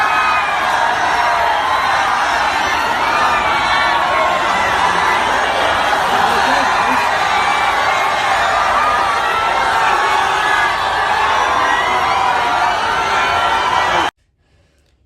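Dense crowd of fans gathered outside Salman Khan's Galaxy apartment, a steady wall of roaring, cheering voices that stays loud and unbroken for about fourteen seconds before cutting off abruptly.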